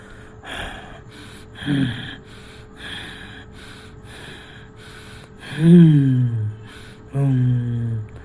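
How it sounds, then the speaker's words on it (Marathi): Heavy, gasping breaths come in several loud bursts with quieter pauses between them, close and strained, with no voices. "खरंच कोणाचा तरी घाबरलेला श्वास ऐकूच होता"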